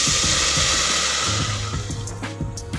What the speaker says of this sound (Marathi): शेंगदाणे उकडण्यासाठी आपण त्यामध्ये पाणी घालणार आहे